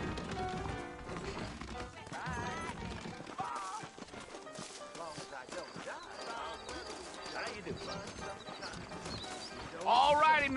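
Hooves clip-clop as saddled horses move out in a Western town in Red Dead Redemption, with a whinny near the end, under ongoing character dialogue and background game music.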